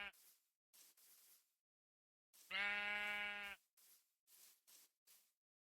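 Sheep bleating in the Minecraft video game: one clear, loud tonal bleat in the middle, surrounded by short bursts of quiet breathy speech-like noise and silent gaps.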